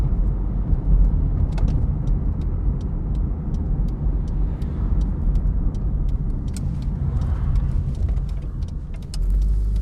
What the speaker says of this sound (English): a bit of an exhaust rattle going on there, but I always like the noise Vauxhall engines make